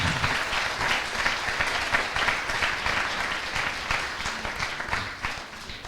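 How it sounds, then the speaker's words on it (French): An audience at an eloquence contest in Le Mans breaks into sustained, dense applause, many hands clapping steadily for several seconds at fairly loud volume before it slowly thins. "On peut l'applaudir, oui."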